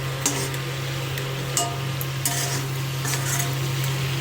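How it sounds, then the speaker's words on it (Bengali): Boiled crab pieces frying in a pan for a crab curry, giving a steady close sizzle with occasional stirring scrapes and light clinks of a utensil against the pan, steady hum underneath, no talking. "তো এই যে কাঁকড়াটাকে এখন ভালো করে ভেজে নিচ্ছি"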